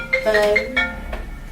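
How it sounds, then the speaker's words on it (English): Mobile phone alarm ringtone chiming in short bright tonal bursts, a few separated notes over about a second, near and moderately loud, with faint talk around it. "That's my phone."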